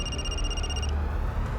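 Telephone ringing, a bright electronic trill held for just under a second before cutting off, clear and close over a low background hum.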